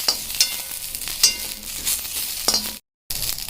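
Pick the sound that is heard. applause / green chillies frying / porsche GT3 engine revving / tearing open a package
green chillies frying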